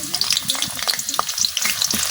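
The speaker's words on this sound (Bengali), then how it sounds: "এখন আমি তেলে ভেজে দিচ্ছি কাঁচা পেঁয়াজ।" Raw onions frying in hot oil in a heated wok, a dense crackling sizzle with bright spattering pops throughout, close and fairly loud, no talking.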